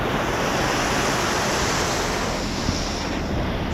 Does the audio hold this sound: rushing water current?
yes